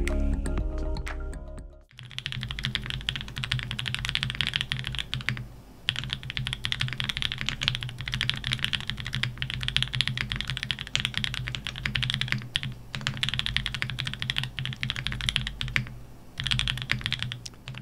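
Steady, continuous typing on an ORI CLS-2 mechanical keyboard with a brass weight, dense clacky keystrokes at an even pace close up, after a brief quiet start.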